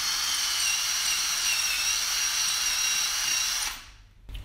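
A high-pitched power drill whines steadily at close range for several seconds while drilling out a seized, rounded bicycle disc rotor bolt, then winds down and stops.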